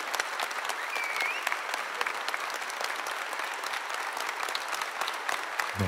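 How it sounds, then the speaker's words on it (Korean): A large crowd applauds as a stock sound effect, producing dense, sustained clapping that holds at a steady level throughout with no gaps. "박수치는"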